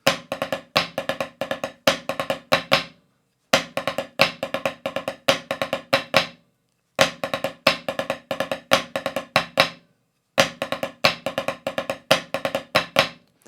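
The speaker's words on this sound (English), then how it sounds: "Right, into our first rudiment, flam drags." Snare drum playing flam drag rudiment patterns, crisp rapid strokes grouped into four repeated phrases with brief pauses between, close and loud, no voices.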